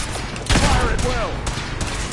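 A gunfire volley rips out in a video game battle, a loud burst of overlapping shots that then trails into scattered echoing cracks.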